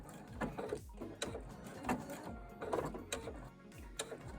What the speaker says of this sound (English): So I'm just stitching this down so we close off the gap.